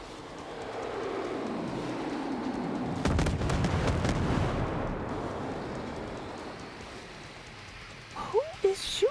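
Gunfire shoots at the player in a video game, a sustained rumbling barrage swelling and fading with a sharp crackling burst in the middle, followed by a few brief thuds near the end.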